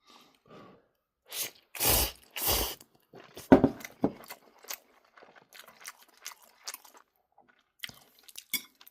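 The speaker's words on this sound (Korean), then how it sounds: "똑같이 그냥 쩝쩝 소리를 좀 극도화 시켜가며 음, 시식을 해보도록 하겠습니다" Close, exaggerated chewing of Korean ramen with wet smacking and slurping bursts, followed by a run of quieter crunchy mouth clicks, with no talking.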